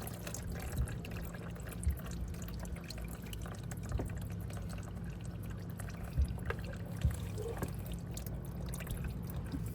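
Engine oil drains from a 2021 Can-Am Renegade 1000R XMR ATV during a fluid service, a steady faint trickle and pour of liquid with occasional drips and light clicks, no talking.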